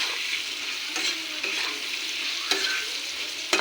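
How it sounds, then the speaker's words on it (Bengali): Vegetables frying with turmeric powder in a pan, stirred with a spatula: a bright continuous sizzle with scraping strokes and a few sharp clicks of utensil on metal, close and steady with no voices. "তারপরে একটু নেড়েচেড়ে নেব।"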